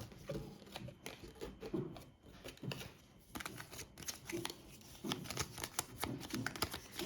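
A deck of cards for a Darkest Dungeon board game is shuffled: soft, uneven bursts of papery flicks and slaps repeat quietly over several seconds, alone without talk.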